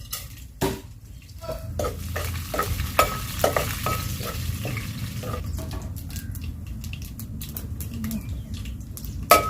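Tempering spices and dried red chillies sizzle and crackle loudly in hot oil, with scattered sharp pops and utensil clinks, birds cooing faintly in the background.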